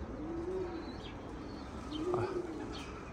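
A captured pair of doves coo softly nearby, two low drawn-out calls about a second apart, with faint chirps and quiet background noise.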